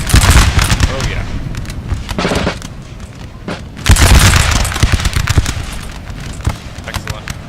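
Loud, dense artillery booms and crackling musket gunfire fill a large Napoleon Total War battle, with heavy blasts in irregular bursts and rolling volleys, one big surge partway through, over faint voices.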